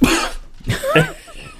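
A person imitates a cough with a couple of rough, throaty bursts, close to the microphone.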